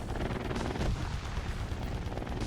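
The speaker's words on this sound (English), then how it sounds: "we're going to have to take them out with the cannons" Cannon fire in the vehicle-building video game Trailmakers, a dense, continuous booming roar that stays loud and rough throughout the short stretch, with no voices.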